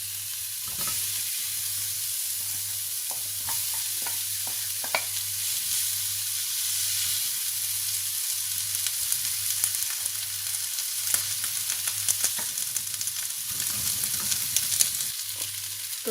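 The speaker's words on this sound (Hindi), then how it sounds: "तो यहाँ मैं इनको अच्छी तरह भून लिया" Chopped vegetables and potatoes for vegetable spring rolls fry in a pan and are stirred, giving a continuous hiss with intermittent spoon scrapes and taps and a low steady hum underneath.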